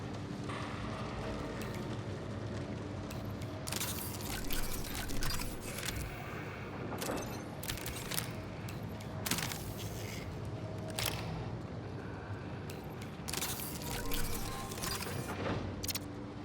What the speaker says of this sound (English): I feel like they could sell the rain effect a bit more.